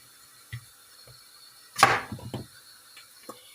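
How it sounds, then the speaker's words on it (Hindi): A knife chops an onion into pieces on a board while preparing a bitter gourd and potato curry: a few sparse, quiet knocks, then one sharper cut followed by a short cluster of taps. "हम अपने अनियन काट लेते हैं।"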